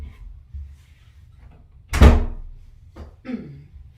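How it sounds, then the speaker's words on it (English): A door shuts with one solid thunk in a quiet room, preceded by faint soft shuffling and followed by a lighter knock or latch sound. "May I close the door?"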